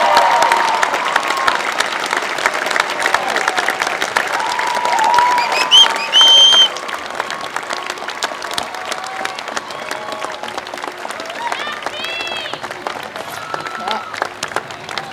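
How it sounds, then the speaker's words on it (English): Loud, sustained applause from a college commencement crowd honoring faculty, dense clapping mixed with some cheering and voices, occasional whistles rising above the ovation. "students, you can join me in applauding all of the faculty"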